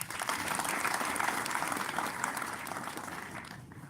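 An audience gives a fundraising committee a dense round of applause, loud and sustained before tapering off slightly toward the end.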